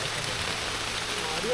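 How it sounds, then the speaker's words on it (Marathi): Heavy monsoon rain in a forest near a village comes down as a soft, even wash of falling drops, fairly faint and continuous, with a voice faintly present. "तर तुफान पाऊस चालू झाला."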